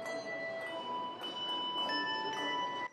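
A Salvation Army hand bell rings repeatedly at a shopping mall, with sustained, shimmering tones that overlap and linger, fairly loud and clear.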